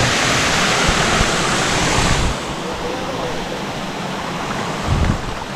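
The Puray Biting Uhay falls pour with a strong current, a loud, continuous broadband roar of rushing water close by that softens slightly partway through, with no clear speech.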